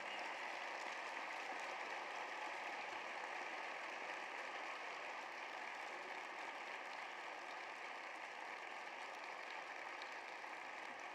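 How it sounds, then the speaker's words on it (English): An audience at a university convocation gives a round of applause, a faint, even patter of many hands heard from a distance and holding steady throughout. "Please give him a round of applause."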